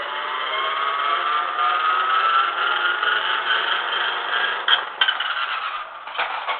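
A toy Evel Knievel wheelie car whirs steadily with a high, thin motor buzz, nearby and without voices, ending in a few brief clatters and scrapes as it rolls.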